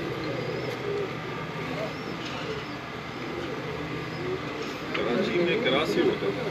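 Kabuli crossbred pigeons, mixed from Kalsara and golden-type birds, coo softly and repeatedly in a loft in Karachi, with people talking over and around the calls throughout.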